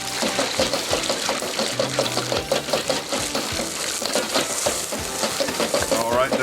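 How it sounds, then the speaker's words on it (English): Pork sizzles and crackles in a wok of fresh oil, with a steady loud frying hiss and scraping stir strokes throughout. "I'm going to add some fresh oil to the wok. All right. And I'm going to add that pork to the wok."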